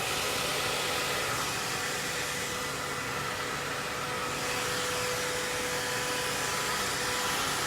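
A hair dryer blows heat onto the ends of a short bob during a haircut, a loud, constant close-up whoosh that barely changes, with no talking.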